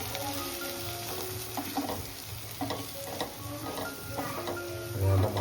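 Garam masala, coriander powder and turmeric sauté in a pan, giving a steady sizzle with repeated stirring scrapes and light clinks, close by and without talk.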